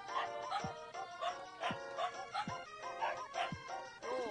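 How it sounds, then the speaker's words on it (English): A cartoonish character in the game Pikuniku barks repeatedly in short, chirpy yaps at an even rhythm, clear and up front over a light melodic game backdrop. "I'm gonna bark at you now."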